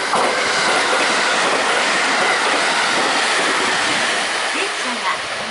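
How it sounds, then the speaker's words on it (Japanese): A local train bound for Himeji arriving at a station in the Kyoto–Osaka area rumbles and roars loudly along the track, with a steady broadband wash of wheel and carriage noise and a faint squeal near the end. "電車が参ります。"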